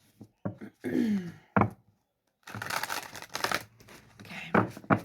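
A deck of tarot cards is shuffled by hand, close up. Crisp, papery riffles and slaps come in irregular bursts, broken by a brief pause.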